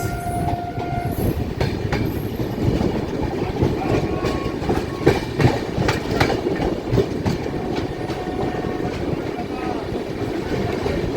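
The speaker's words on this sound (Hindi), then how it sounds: "सामने से एक खूबसूरत सा ट्रेन क्रॉसिंग देखने को मिल रहा है" Kamrup Express train passing on the opposite track near a crossing, heard from inside another moving train: a continuous dense rumble with rhythmic wheel clatter and thumps throughout, close and steady.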